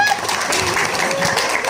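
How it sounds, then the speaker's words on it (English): A school audience claps continuously in a dense, steady wash of applause for a presenter, with a voice audible beneath the clapping. "Let's give one more round of applause for him."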